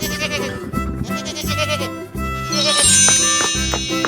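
A goat bleats in a 3D animal sliding game, its cry sitting over upbeat background music with bright chimes near the end.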